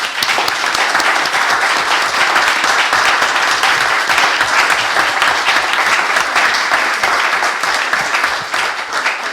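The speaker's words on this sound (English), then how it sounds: "let's give them a big round of applause." Audience applause at a Rotary Club candidate forum in Cape Charles: a loud, steady round of clapping from a room full of people that lasts about nine seconds and tapers slightly at the end.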